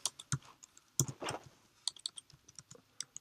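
Keys on a computer keyboard being typed in irregular bursts of crisp clicks and taps while entering a name, close and fairly quiet with no talking.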